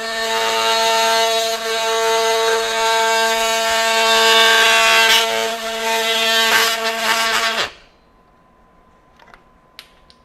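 Milwaukee M12 FUEL 2526 cordless oscillating multi-tool cuts through hardwood, oak or ash, with a loud steady buzzing whine that runs for about eight seconds, then stops abruptly, leaving near silence with a few faint clicks.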